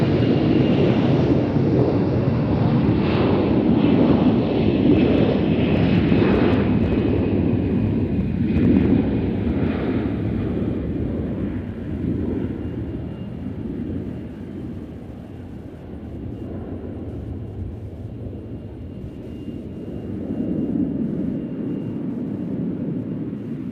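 An airplane arriving from DFW passes over Nashville International Airport as a steady, loud broadband roar that slowly swells and eases across the whole stretch, with no voices.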